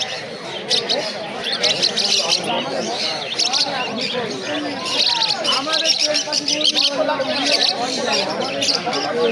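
Tame conures and other caged birds chatter at a busy pet bird market, a dense wash of chirps and squawks running throughout, with people talking over the birds.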